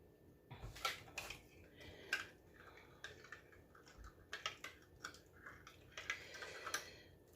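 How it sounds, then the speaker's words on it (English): A spoon stirring brown sugar into a cup of milk, giving a series of light, quick clinks and taps against the cup in an irregular rhythm, close and fairly quiet. "we're just going to stir that and get that all nice and dissolved"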